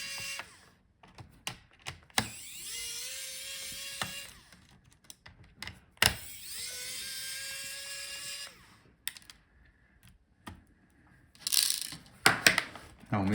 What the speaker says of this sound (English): So unscrew all the screws.